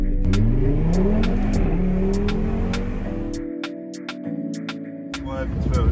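An Audi S3 accelerates on a test drive, its engine note climbing through several rising gear pulls and then settling to a steady drone, with talk running over the motor.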